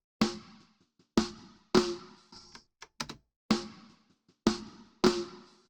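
Dry snare drum hits from a poorly recorded kit with no reverb, about seven sharp close strikes at an uneven pace, each decaying quickly into silence, with a couple of lighter ghost taps between.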